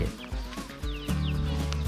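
Chickens kept free-ranging in a rubber plantation cluck and call nearby, with a few short bird calls over a steady low rural background and no talking.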